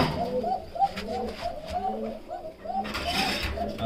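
Fancy pigeons at a pigeon farm in Fatehpur give repeated soft, throaty cooing close by. The calls overlap in a steady rolling rhythm over low background murmur.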